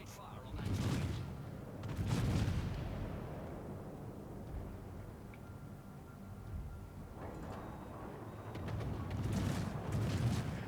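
Warship guns fire at an enemy destroyer in a naval video game, heard as a few distant, muffled volleys of booms that swell and fade over a quiet rumbling background.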